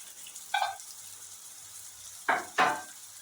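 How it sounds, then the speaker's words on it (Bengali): Chopped onions frying in a pan for Bengali mutton kosha, with quiet oil and a few short bursts of sizzle and stirring scrapes that stand out against near silence. "এবার পেঁয়াজটাকে ভালো করে ভেজে নেবো লাল করে।"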